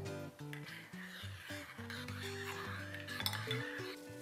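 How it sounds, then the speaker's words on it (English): Quinoa and water stirred in a dish with a utensil, giving repeated scraping and clinking strokes against the dish, fairly close, with a faint musical tone running underneath. "Now we're gonna stir it."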